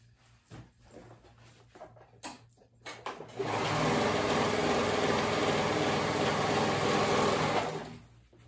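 A sewing machine runs in one steady burst of stitching through sweater fabric, close and loud for about five seconds after a few soft handling clicks and thumps.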